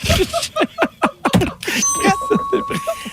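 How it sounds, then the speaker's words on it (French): A bright bell chimes and rings on with a sustained tone while people talk over it, their voices close and lively. "quand on entend un son de cloche, on passe au prochain"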